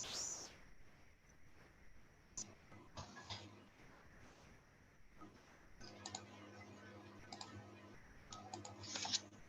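Quick bursts of typing on a computer keyboard correcting a misspelled word, soft irregular key clicks at close range with pauses between runs.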